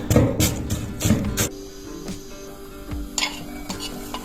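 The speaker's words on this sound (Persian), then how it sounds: "پیازهامون رو نگینی خرد میکنیم و با حرارت ملایم تفت میدیم تا طلایی بشن." Diced onions sautéing over low heat for chicken soup, soft sizzling with a few sharp stirring scrapes and taps of a utensil against the pan, close and fairly quiet.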